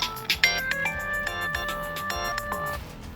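A mobile phone ringtone plays in a dark outdoor setting at night, a bright repeating melodic chime of several short tonal phrases at steady moderate loudness, with no talk over it.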